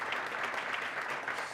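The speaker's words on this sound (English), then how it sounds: "So let's give your panel a round of applause." A conference audience gives a panel a brief, steady round of applause with dense, even clapping throughout.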